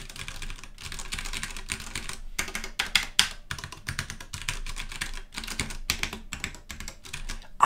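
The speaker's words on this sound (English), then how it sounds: "It is just such a gorgeous sound" Rapid typing on a Ducky One 2 Mini mechanical keyboard: dense, close clacking keystrokes in uneven bursts with brief pauses and no voices.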